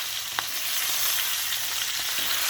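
Four meat shanks sizzling steadily in a hot pan while being turned to sear, a dense continuous frying hiss with a faint clink of utensil on the pan.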